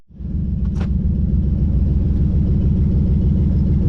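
A Toyota 4Runner engine runs loud and close, a steady low rumbling idle that starts abruptly and holds evenly, with a brief higher whine early on.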